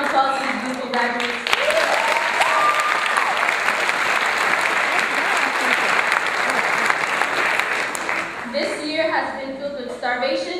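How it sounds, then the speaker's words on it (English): A graduation audience applauds the class of 2014 with sustained, dense clapping that fills the room for most of the stretch, with some voices at the start and end. "Can we all give a round of applause to these beautiful graduates?"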